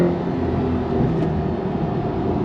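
A 2024 Chevy Corvette E-Ray's V8 engine drones in a steady, loud, unbroken rumble, with road and wind noise blended in and no voices.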